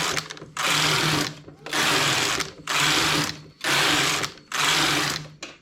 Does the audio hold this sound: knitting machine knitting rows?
yes